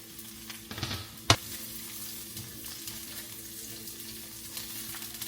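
Chicken with onion, garlic and ginger sizzles in a pan in a low, steady hiss, with one sharp clack of a utensil early on and quiet stirring scrapes.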